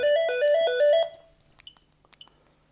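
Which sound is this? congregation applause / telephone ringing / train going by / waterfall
telephone ringing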